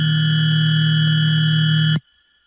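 A saturated synth tone with the low end left uncut before distortion, holding a loud, steady buzzing note with a strong low fundamental for about two seconds before cutting off abruptly into near silence.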